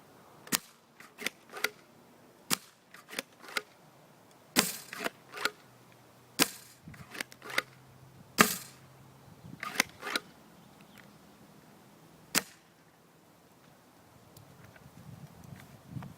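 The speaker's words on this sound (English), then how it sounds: "Okay, now more realistic use of this gun, which is using a 5-shot RSCB with my fancy clear clip here." A homemade Nerf PumpSnap blaster firing from a 5-shot clear clip, sharp snapping shots and pump clacks spaced a second or two apart, close and crisp against a quiet background.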